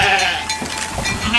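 Churro sheep bleat on a farm in Churro, Arizona, giving a brief, close, wavering call that is fairly loud.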